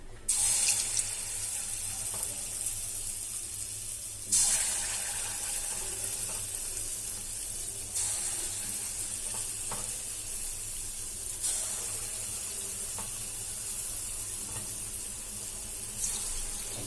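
Mysore bonda batter drops into hot oil heated on a gas stove and fries with a continuous bright hiss and sizzle, with surges of louder crackling as new pieces go in, close and unbroken by talk.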